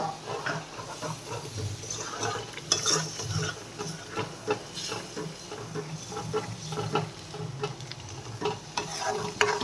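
A gravy of onion, tomato, garlic, ginger and dried chili sizzles in a hot pan for a cashew and paneer curry, with a steady crackling fry and scraping stirring strokes throughout, close and fairly loud.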